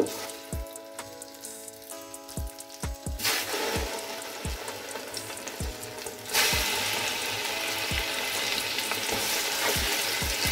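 Chicken pieces frying in melted butter and oil in a pan, a steady close sizzle that grows louder partway through, with sharp stirring knocks against the pan at intervals and no voices.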